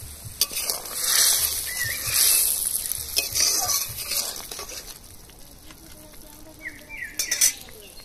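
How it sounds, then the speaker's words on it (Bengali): Fried tiger prawns are tipped into a boiling, lightly spiced prawn curry and stirred, with steady sizzling, bubbling and spoon scrapes against the pan, close and fairly loud, plus a few clinks near the end. "এবার ভেজে রাখা চিংড়ি মাছগুলো দিয়ে দেবো।"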